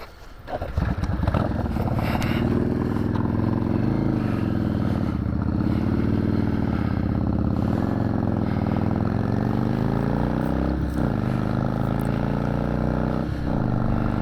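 A 2002 Yamaha XVS650 V-Star V-twin with a dead charging system catches after a push start and settles into a loud, continuous lumpy idle with slight rises in revs.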